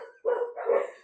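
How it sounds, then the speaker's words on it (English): Household dogs bark twice in quick succession, close by and moderately loud, the short yappy barks coming alone without any speech. "my dogs are being crazy"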